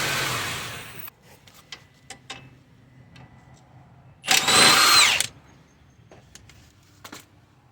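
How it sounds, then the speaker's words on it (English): A pneumatic impact gun bursts out once in a loud, close, roughly one-second rattle while loosening a 17 mm suspension nut on a Honda CR-V, set among quieter clicks and tool clatter in a garage. "I have an impact gun, so hopefully you can take it out easily."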